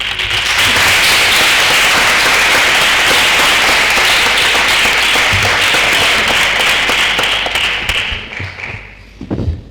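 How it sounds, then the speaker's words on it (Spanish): Loud, dense applause from an audience at a university conference on equality and violence against women, steady for several seconds before thinning out and fading near the end. "pido un aplauso para doña Ágata Sanz"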